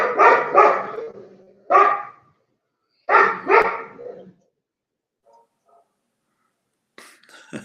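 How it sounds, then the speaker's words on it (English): A dog barks inside a house in short bursts of two or three, the barks echoing through the rooms with a reverberant tail and quiet gaps between them. "The barking is echoing through the house"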